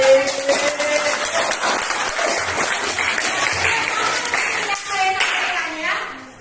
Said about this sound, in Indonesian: Iya, beri tepuk tangan.